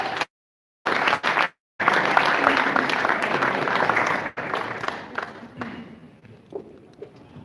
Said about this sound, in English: A big round of applause please for Reshat Mati.